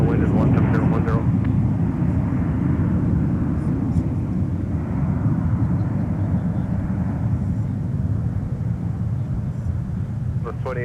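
An airplane lands at Minneapolis–St. Paul airport, its loud, broad engine roar sustained throughout, with air-traffic radio chatter briefly audible over it at the start.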